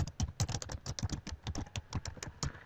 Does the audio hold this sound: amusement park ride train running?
no